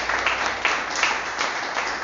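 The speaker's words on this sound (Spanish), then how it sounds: "Démosle un aplauso al Señor." Congregation applause during a church service, a dense, steady clapping from many people with a few stronger bursts, moderately close and continuous.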